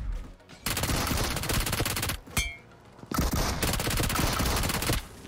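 Rapid automatic P90 gunfire in the BGMI mobile battle game comes in long, dense bursts, broken by a brief pause with a short metallic ping, then resuming loud and fast.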